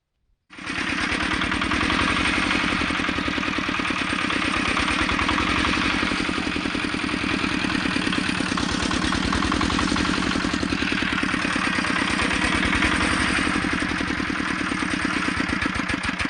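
A new heavy diesel walk-behind tractor being run in, in third gear, its engine starting up and then chugging loudly and steadily at close range with a constant clattering rhythm.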